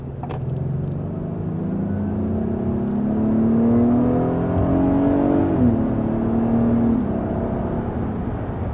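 SUV accelerating in traffic, a 2022 Acura MDX or 2021 Lexus RX 350, engine whir rising steadily in pitch, dipping briefly at a gear change, then continuing, heard from inside the cabin as a loud sustained hum.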